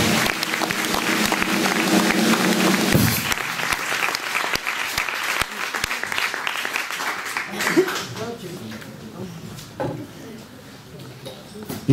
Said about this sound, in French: je vous demande d'applaudir très chaudement Monsieur Julien Fromont.